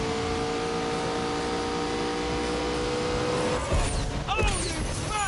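A car engine drones steadily at high revs in The Grand Tour Game, then tyres squeal in a short burst of skidding near the end, loud and close, with no talk.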